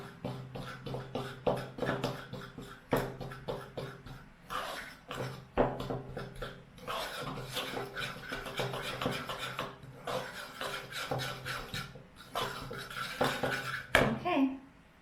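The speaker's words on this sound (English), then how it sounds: "let's mix up the flour, the sugar, and the cinnamon" A utensil stirs flour, sugar and cinnamon together in a bowl for a blueberry crumb muffin topping, with steady scraping and clinking strokes that run continuously and close up, ending with a brief sharper knock.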